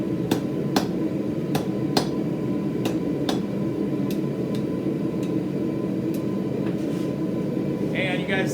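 Regular sharp metallic hammer strikes on hot metal being forged into a coffee scoop handle ring out roughly every half second to second over a steady, noisy background hum.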